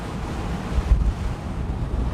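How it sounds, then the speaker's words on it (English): Strong wind buffets a Sydney ferry crossing the harbour at night, a loud continuous roar with gusts and surging water beneath, no voices. "it is rather windy. Hopefully you can still hear what I'm saying"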